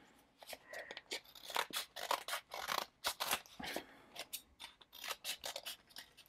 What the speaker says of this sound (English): take both papers, put them together, fold them. Yes, it's going to be quite a bit of paper to cut through